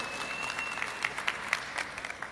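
A town meeting crowd in a school gymnasium claps, a steady roomy wash of applause with a few sharper individual claps standing out near the middle, heard at moderate distance with a thin high tone running underneath.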